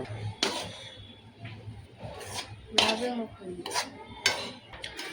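Besan roasting in a pan for ladoos, with a spoon scraping and clanking against the metal in quick irregular strokes, fairly close and moderately loud, with faint background sound between strokes.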